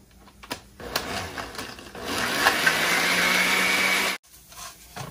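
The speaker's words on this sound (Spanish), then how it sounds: "Y vamos a licuar." Blender whirring as it purées rice with a little water for green rice, starting with a few clicks and bursts, then a steady loud grinding whine for about two seconds before cutting off abruptly.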